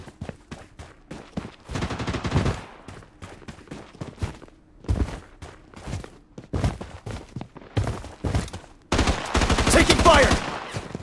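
Rapid automatic gunfire in the shooter game BloodStrike, coming in repeated bursts of shots with short gaps between them, plus a long loud volley near the end.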